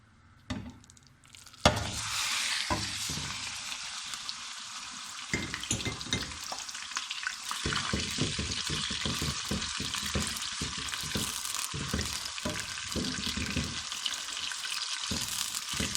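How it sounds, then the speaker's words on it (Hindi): Minced meat keema frying in hot oil, a loud continuous sizzle that begins abruptly as the mince hits the pan, then crackles steadily with stirring scrapes throughout. "पहले हम अच्छी तरह कीमे को अच्छी तरह भूनेंगे।"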